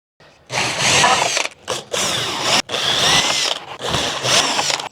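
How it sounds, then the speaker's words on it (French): Loud, close drilling with a hole saw: a harsh, grinding whine running in long bursts broken by a few brief pauses. "je vais utiliser ici une scie cloche"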